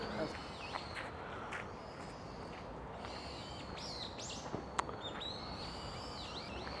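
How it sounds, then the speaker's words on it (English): Birds shriek and call repeatedly from the trees around Meiji Shrine in Japan, sharp high cries scattered over a busy, noisy outdoor background with faint footsteps. "You can hear these birds screaming."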